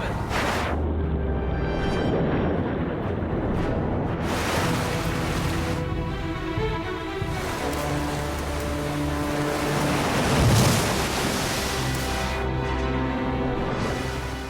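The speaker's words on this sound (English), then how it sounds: "In the fast-flowing torrent, Dave's broken collarbone and ribs make trying to swim agony." A fast-flowing river torrent in cold bear country, loud continuous rushing and churning water with heavy low rumble and surges, close by and sustained, with a voice partly heard over the flow.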